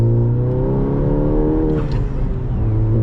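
A 2019 Volkswagen Golf GTI Rabbit Edition with a six-speed manual revs its engine close by, a steady, loud, throaty drone whose pitch climbs and falls as the throttle is worked, with no talk over it.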